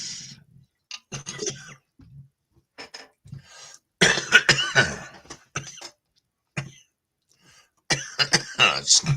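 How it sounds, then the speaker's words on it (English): Several bursts of coughing, some loud and close, separated by short pauses, with a few throat-clearing sounds in between. "Because I'm in the middle of coughing here."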